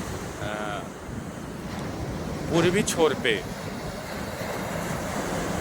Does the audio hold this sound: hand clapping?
no